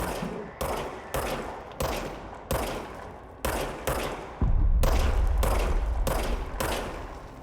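A video game gun fires about ten single shots, each about half a second apart, then shifts into a sustained, heavier burst of fire that runs to the end.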